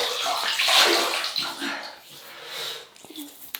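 Water splashes and sloshes in close, irregular bursts as a face is wetted by hand just after a shower, ahead of a wet shave with menthol-scented shaving soap.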